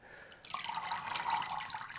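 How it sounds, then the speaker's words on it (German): Excess water trickles and drips out of a soaked orchid pot after repotting, a close, steady splashing stream that begins abruptly and continues to the end, with no talking. "alles überschüssige Wasser muss jetzt rauslaufen."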